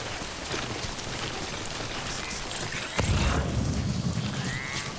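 Steady rain in the video game Death Stranding makes a constant broadband hiss and patter. A dull low thump lands partway through, then the downpour carries on, with no talking.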